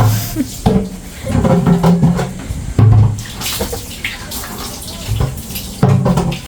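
Drinking water being poured into a tumbler in a rural Mindoro home, a loud, close splashing gush that surges and eases in bursts, alone without talk.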